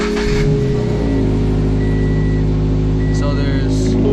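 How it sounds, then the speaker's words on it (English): A Subaru BRZ engine runs at a steady, close idle, a low continuous hum with faint electronic chimes and beeps from the dashboard. "I'm gonna turn on the car"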